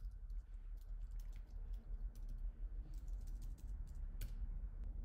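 Quiet, rapid clicking comes from a computer keyboard as someone types, the keystrokes soft and irregular over low background hum.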